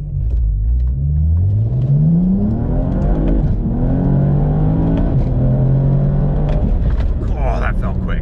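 A DCT-swapped BMW 335i with an N54 engine on an xHP stage 3 tune pulls hard under acceleration, its loud engine note climbing steadily through the gears from inside the cabin.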